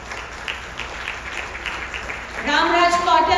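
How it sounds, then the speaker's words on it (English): Audience applause at a Southern California community event after a title sponsor is called to the stage, a steady wash of clapping that swells louder near the end, where a voice speaks over it. "Can you please give a big applause?"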